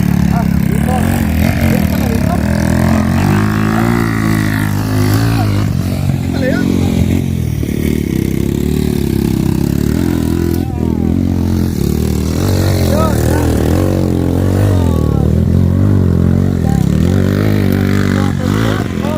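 An underbone motorcycle engine at an enduro race runs loudly and continuously, rising and falling as it revs, while people talk over the noise.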